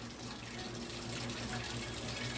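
Cold water runs steadily from a kitchen tap into a sink, a continuous hissing splash with no break.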